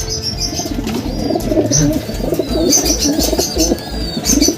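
Racing pigeons coo in a loft, a close chorus of low, throaty rolling calls repeating over several seconds, with higher chirps and a brief flutter of wings mixed in.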